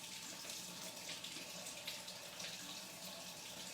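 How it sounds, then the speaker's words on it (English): Cold water runs steadily from a kitchen tap into a sink, a continuous soft hiss and splash with no break, fairly faint and unaccompanied. "I'm just running my tap a little bit."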